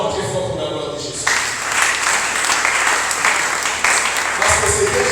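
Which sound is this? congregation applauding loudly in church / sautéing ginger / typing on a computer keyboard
congregation applauding loudly in church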